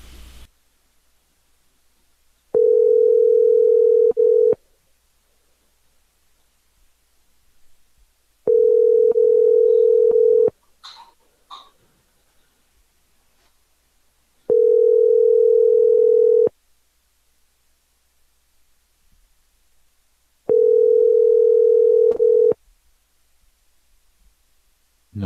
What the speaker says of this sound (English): Well, I'm dialing now.